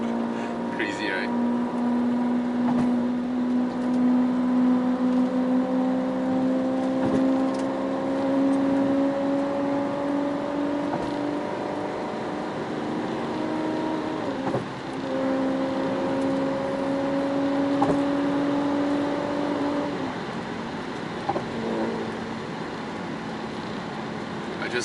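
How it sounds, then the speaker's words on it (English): Car engine humming steadily while driving, a moderate drone with pitch slowly rising through gears and a drop near the end, heard alone at a modest level. "I just love how this car sounds."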